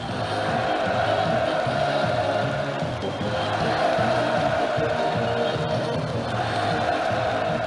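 Massed crowd cheering at a Workers' Party of Korea congress in February, a dense, steady roar of many voices sustained loudly and evenly without a break, with musical or chanted tonal bands running through it.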